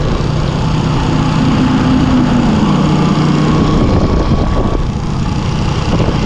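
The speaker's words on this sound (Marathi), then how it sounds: "मित्रांनो, तर गाडीच्या इंजिनमधनं आवाज यायला लागलाय." A car engine on a ghat highway near Udhampur, Jammu, producing a steady, loud mechanical drone with a wavering whine throughout, heard from inside the moving vehicle with no talking.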